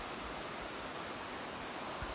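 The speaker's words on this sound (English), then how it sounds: "We're going down to the creek here." Broadband rushing water from an Idaho creek at sunrise, a steady close wash of flowing current with no voices, lasting a couple of seconds.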